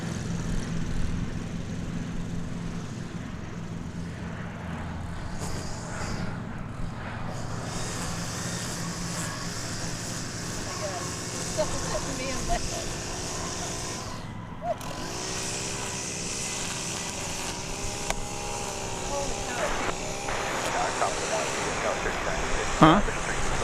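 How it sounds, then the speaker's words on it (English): American Airlines Airbus A319 arriving at DFW airport from Monterrey, its engine noise a steady broad roar lasting throughout, with outdoor background sound and faint voices nearby. "This is American Flight 941. It's an Airbus A319 arriving from another Mexican destination,"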